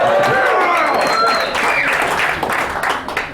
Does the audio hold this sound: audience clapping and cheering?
yes